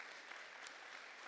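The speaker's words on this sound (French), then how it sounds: "Puis je demande d'applaudir également Jean-François Kahn" An audience at a book event applauding a guest, steady dense clapping heard faintly from a distance and continuing throughout.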